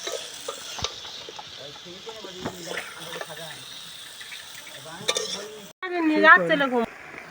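Meat and potatoes sautéing in a pan for a coriander mutton curry, a soft continuous sizzle under repeated scraping stirs, then a louder spoon-and-pan clatter near the end, close by and fairly quiet.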